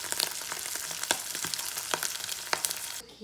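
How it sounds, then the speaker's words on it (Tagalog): Dried fish (tuyo) frying in a pan at home, with a steady close sizzle and crackle broken by sharp pops and spatters, then cutting off abruptly at the end; nobody speaks. "So, nagpipirito lang ako ng tuyo."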